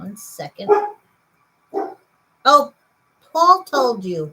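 A small dog barks in a few short bursts between stretches of close indoor speech.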